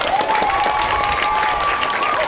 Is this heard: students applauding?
yes